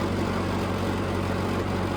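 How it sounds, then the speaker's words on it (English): A tractor with a fresh engine and new clutch idles close by, a steady low rumble with even pulsing and no voices. "This thing just never overheats. Real good tractor, real fresh engine."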